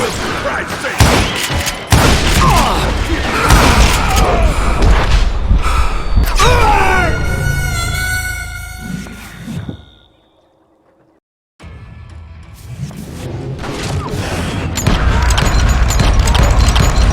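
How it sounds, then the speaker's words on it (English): A fusillade of gunfire in Call of Juarez: Gunslinger, with loud, rapid shots and booming impacts pouring down in a dense barrage. Voices cut in, the sound drops to near silence briefly, and then the shooting resumes. "a fusillade of bullets come raining down from on high"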